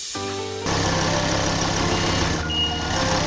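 A Ford RS engine with newly installed, re-gapped spark plugs cranks briefly with a whirring starter, then catches and settles into a loud, steady, smooth idle close by.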